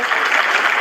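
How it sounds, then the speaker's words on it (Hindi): Dense, steady applause from a crowd, loud and continuous for the whole moment with no gaps. "तालियां तालियां तालियां बजनी चाहिए।"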